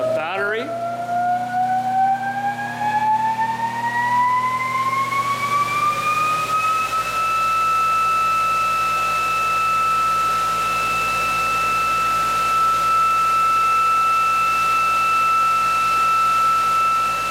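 A generator spins up in a perpetual-motion-machine setup that supplies power to a battery. A rising whine climbs in pitch over about seven seconds and then settles into a steady, loud tone with a low hum beneath it.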